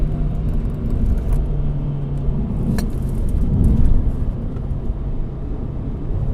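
A Ford Fiesta ST with an X47R turbo making 280 whp accelerates at high revs, its engine a loud sustained in-cabin rumble with steady drone and slight rises, heard without any talk.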